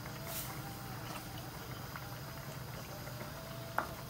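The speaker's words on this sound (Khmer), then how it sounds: "ហើយស្ងោរវាទៅឲ្យពុះ" An agar and coconut mixture boils steadily in a pot, giving a constant low bubbling and simmering hiss throughout, with a single brief clink near the end.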